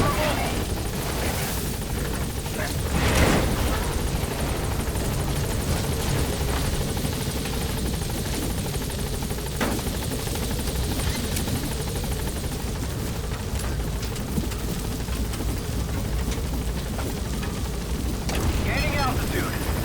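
A helicopter hovers at a landing zone in Metal Gear Solid V: The Phantom Pain, its rotor roar loud and steady throughout with a few deep booms beneath, while a voice speaks over the engine.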